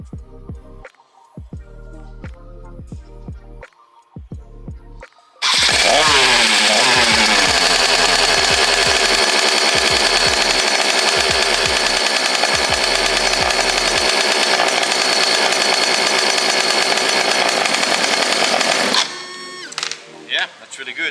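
A Jetsurf engine roars to life after a few seconds of clunky handling noises, then runs loud and steady with a buzzy, high-revving drone before cutting back.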